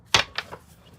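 A deck of cards is shuffled during a card reading: a few quick, crisp riffling bursts, the first loudest, then fading into near quiet.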